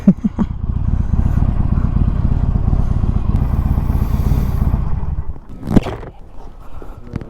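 Harley-Davidson Iron 1200 motorcycle riding, its engine a loud, steady rumble for about five seconds before dropping away, followed by a brief scrape or clatter near the end.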